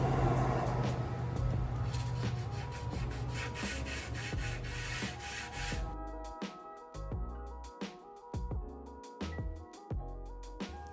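Sandpaper rubs by hand along wooden baseboards in a steady scratchy rasp for several seconds, then gives way to softer, scattered strokes and light knocks, close and moderately quiet.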